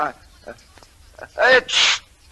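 A single loud sneeze with a sharp, breathy wind-up and burst, preceded by faint scattered voice sounds, in an old radio drama.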